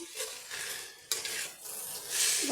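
Bottle gourd curry with salt, turmeric and bay leaf is stirred in a pan, a steady scraping and rustling of the spoon against the metal that swells in short strokes, close by with no talking.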